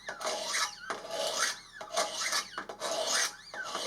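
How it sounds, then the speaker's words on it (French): A knife blade is drawn across an abrasive stone on a Wicked Edge GO sharpener in repeated rasping strokes, about four quick scrapes close up and fairly quiet. "le bruit, c'est normal. C'est le grain qui attaque le fil."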